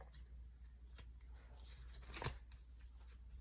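Tarot cards are shuffled quickly by hand, soft rapid riffling and flicks with one sharper snap partway through, close and quiet against a low background hum.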